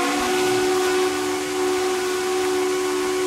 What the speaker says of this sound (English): Could you stop that whistle?